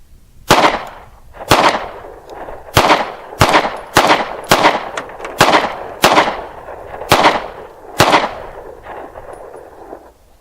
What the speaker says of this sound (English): let's set up some targets and see if my new pistol is going to shoot okay